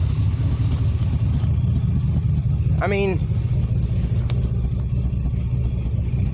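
Old 1989 Chevrolet Silverado pickup engine running steadily after a boost start, a continuous low idle rumble close by, with a brief voice speaking over it partway through.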